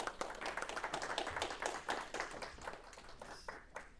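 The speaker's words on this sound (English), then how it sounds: "Round of applause, please." A small group claps for a few seconds, a brisk, fairly close patter of hands that thins slightly toward the end.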